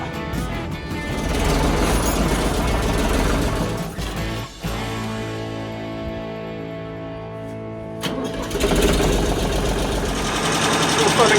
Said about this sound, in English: we're just using the sports tractor to recharge the batteries